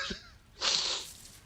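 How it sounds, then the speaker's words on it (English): A single person's sneeze bursts out sharp and close after a brief inhaled catch, then tails off quickly into quiet. "I'm about to sneeze."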